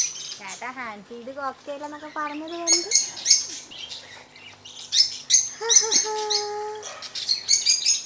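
A cockatiel chirps and whistles in bright, repeated calls with rising tones, close by and fairly loud, with brief pauses between phrases.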